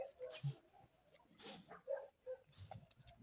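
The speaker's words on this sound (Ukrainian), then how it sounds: "А собаки роботу роблять, брешуть." Faint village dogs bark and yip in the distance before dawn, scattered short calls from several directions in a quiet setting.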